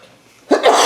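A single sneeze bursts out from an audience member during a talk, sharp and fairly close, following a brief quiet pause.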